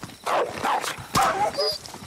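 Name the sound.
dog barking in Call of Duty Modern Warfare 2019 video game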